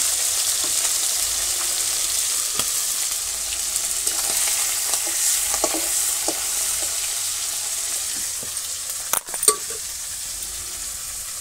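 Hilsa fish sizzles and spits as it fries in oil in a village kitchen, a steady, close crackle running throughout with a brief metallic clink near the end.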